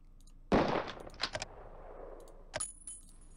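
Rifle shots crack at the shooting range in the video game Police Quest: SWAT, one sharp report followed by a few metallic clicks of the action, then a second quicker burst of clatter.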